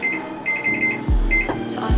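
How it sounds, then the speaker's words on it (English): A kitchen timer goes off while chickpea noodle soup cooks, beeping in quick repeated pulses, with a few dull clunks from the stove area mixed in. "set another timer for 10 minutes"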